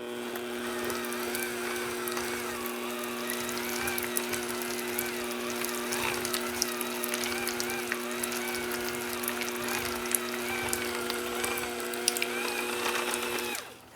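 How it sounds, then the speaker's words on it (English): An electric kitchen mixer blends ingredients with a steady, close whirring drone and fine rattling clicks. It runs without a break for about fourteen seconds, then cuts off at the end. "But I'm going to use my mixer and mix this together well."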